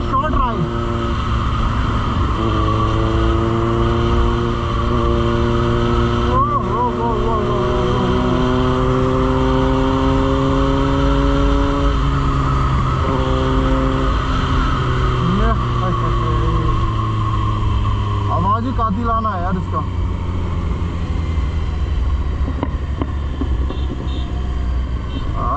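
A Kawasaki Z900 motorcycle runs steadily throughout a Sunday ride in Dehradun, its engine note loud and close, with revs rising and falling in smooth sweeps and a rider's voice speaking over it at times.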